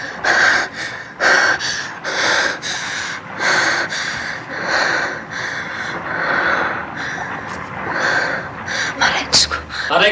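A drowning man's breathing, recorded: ragged, gasping breaths in repeated loud bursts separated by short pauses, close to the microphone.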